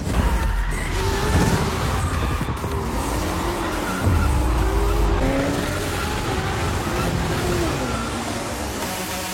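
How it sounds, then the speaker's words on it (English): Engines roar over continuous tire squeal as cars drift, with screeching tones sliding up and down, loud and dense throughout. "Suddenly he finds himself in the middle of a drift race."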